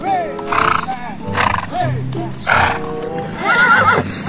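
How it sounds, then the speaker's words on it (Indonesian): A horse whinnies and neighs in a cartoon-style animal cleaning game, repeating four times in quick succession, loud and close, with faint clip-clop hoofbeats beneath. "ada seekor kuda"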